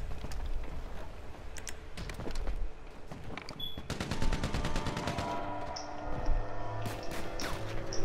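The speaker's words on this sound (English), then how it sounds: "Oh my god, the minigun is so bad!" Rapid automatic gunfire from a minigun in GTA Online, dense, loud bursts of shots in a chaotic multiplayer firefight, with a steady stream of fast repeated cracks through the second half.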